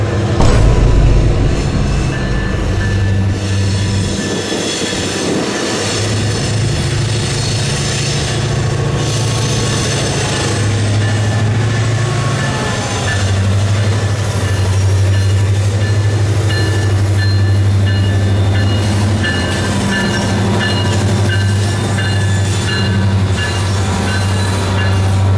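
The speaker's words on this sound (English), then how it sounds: "Yep, I managed to see a BNSF" A BNSF freight train rolls past the Amtrak station in Galesburg, Illinois, with a continuous close rumble, steady low drone and high wheel squeal running throughout.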